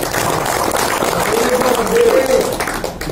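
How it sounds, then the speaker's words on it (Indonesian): An audience claps for Ibu Cartem as a continuous wash of applause. Talk and crowd noise can be heard mixed in with the clapping. "Saya minta tepuk tangannya buat Ibu Cartem."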